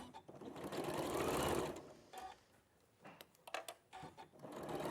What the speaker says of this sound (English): as you sew over the prairie points, sew a little bit slower and press down, almost feed it through the end of your sewing machine foot